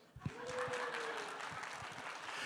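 A church congregation applauds during a sermon, a steady even patter of many hands at moderate level, with a brief tone drifting over it near the start.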